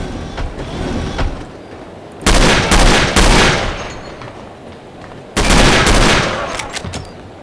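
Loud gunfire in the video game No One Lives Forever, with two heavy bursts of rapid shots, each lasting about a second and a half, between quieter stretches of game noise.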